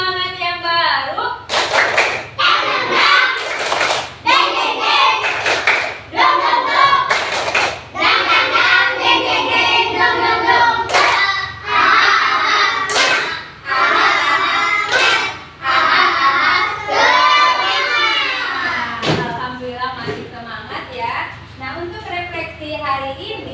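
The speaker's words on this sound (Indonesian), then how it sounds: "Ya coba tepuk semangat dulu." Classroom of children performing a rhythmic clapping chant, loud unison claps in patterned bursts alternating with sung and shouted chanting voices, close and energetic.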